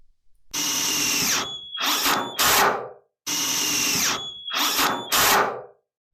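A power drill drives screws to fasten profiled metal sheeting to a garage door. Two matching passes, each a long whirring run and then two shorter bursts that rise in pitch as the screw bites and stops, close and loud with no talk.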